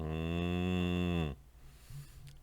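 A cow gives one long, loud, drawn-out moo as a sound effect, then cuts off abruptly into near silence.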